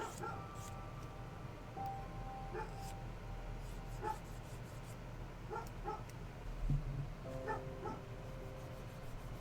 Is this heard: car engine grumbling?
no